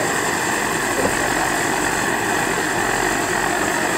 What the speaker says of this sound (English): As it heats up, you're going to get a nice blue flame.